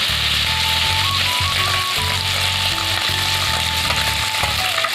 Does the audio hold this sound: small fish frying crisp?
yes